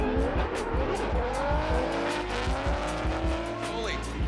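Drift cars at a Formula Drift event in Utah scream past with long, wavering tire squeals over loud, surging engine revs, continuous and close, while a commentator talks over the action.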